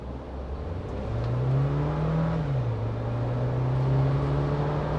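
Mahindra Thar petrol automatic launching from a standstill with traction control off, its engine note rising into a smooth, moderate drone as it accelerates, heard from inside the cabin without talk.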